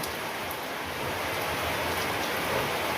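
Heavy rain pours down steadily, a dense hissing wash of drops drumming on surfaces, loud and unbroken throughout.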